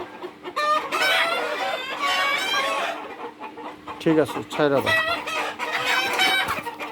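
Fayoumi chickens being weighed and handled, loud close clucking and squawking bursts alongside steady talk between people, with a constant low hum beneath.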